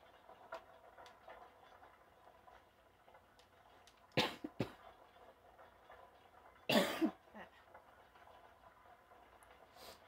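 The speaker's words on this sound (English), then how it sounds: "Sorry about coughing." Two sharp coughs from a person playing the horror video game Bendy and the Ink Machine, a few seconds apart, rising clearly above a quiet game backdrop with faint ticking.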